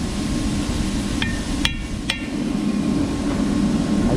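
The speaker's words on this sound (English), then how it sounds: "this chisel works really good to take these dust caps off" A few sharp metal taps ring out from a chisel prying dust caps off the wheel hubs of farm equipment, with three distinct strikes spaced apart over a steady low background hum.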